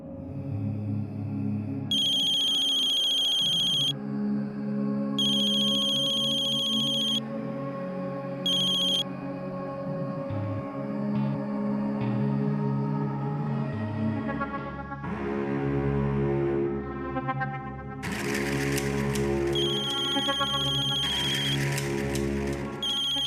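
A telephone rings in repeated electronic bursts of tone over a continuous musical background, and the ringing grows louder and denser toward the end.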